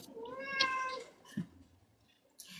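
A house cat meows for food in a drawn-out, rising call, then makes a brief softer chirp, close and clear in a quiet room.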